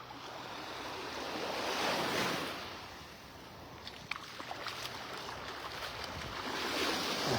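Morning surf rolls onto the beach at Delnor-Wiggins in North Naples, Florida, a steady broad wash that swells and eases with the waves, with some wind noise across the microphone.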